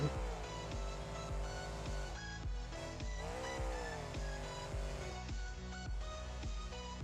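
A monster truck popping wheelies in BeamNG.Drive inside a stadium: a steady, loud engine drone that rises and falls in pitch as it revs, running without a break and heard alone.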